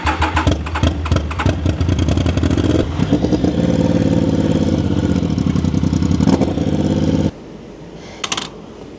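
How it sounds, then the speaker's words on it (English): A budget project motorcycle sets off and drives forward, its engine revving hard with sharp bursts of rising pitch and a choppy, clattering note before cutting abruptly to a quieter idle near the end. "the bike drives, goes forward, very happy about it"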